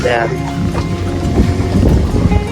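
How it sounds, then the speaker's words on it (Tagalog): Strong wind buffets the microphone with a low, rumbling roar, while a voice talks over it. "malakas ang hangin dito"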